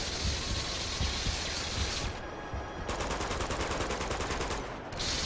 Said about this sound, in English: Okay, so I gotta shoot those straps.